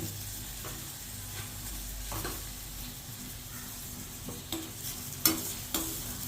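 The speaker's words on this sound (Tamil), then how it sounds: "கருவேப்பிலை தக்காளி எல்லாம் போட்டாச்சுமா. நான் வதக்குறேன்." Onion, tomato and curry leaves sauté in a pan for potato and cabbage kurma, with a soft continuous sizzle and several sharp spoon scrapes and clicks as the mix is stirred.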